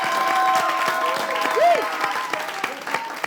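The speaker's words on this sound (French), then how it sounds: "Applaudissez pour lui déjà, s'il vous plaît." Steady applause from a crowd fills the whole stretch, with a brief whistle-like tone rising and falling partway through.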